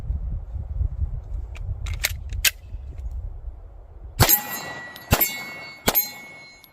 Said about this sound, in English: We'll throw 3 more rounds downrange and see how this does.